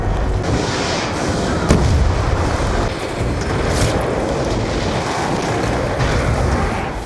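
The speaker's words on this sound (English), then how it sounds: "immediately starts cooking a grenade to kill himself for pack" A grenade explodes in a video game, a loud sustained roaring blast with rumbling debris that fills the whole stretch and swells again near the end, with no voices.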